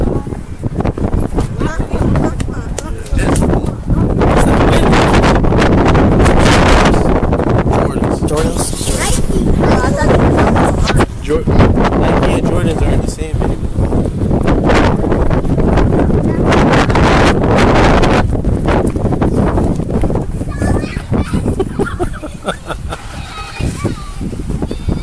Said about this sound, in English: It's that wind that's doing it.